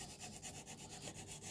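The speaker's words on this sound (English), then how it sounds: "Well, I'm hand sanding." Abrasive paper rubs back and forth over a chef knife blade by hand, a soft, steady rasping stroke repeating at an even rhythm, close and quiet with no voices.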